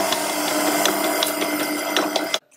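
A food mixer runs at its lowest speed while making madeleine batter, a steady loud whirring drone with small rhythmic clicks that cuts off abruptly near the end.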